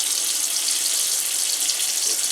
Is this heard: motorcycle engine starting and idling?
no